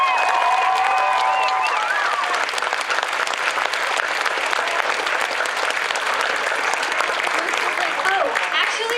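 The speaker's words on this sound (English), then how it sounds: "everybody should give them a round of applause" Loud, sustained applause from an audience at a comic convention cosplay contest, dense clapping filling the whole stretch with some cheering and voices mixed in.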